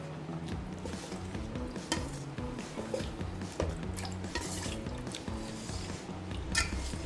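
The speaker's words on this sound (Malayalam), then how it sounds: "നന്നായിട്ടൊന്ന് ഇളക്കി" Pineapple halwa with flour and water being stirred in a pan: a steady scraping, sloshing texture runs continuously at moderate loudness with no talk.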